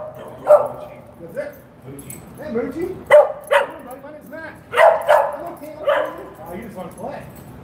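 A dog barks and yips in short bursts several times, mixed in with close conversation from several people talking over it.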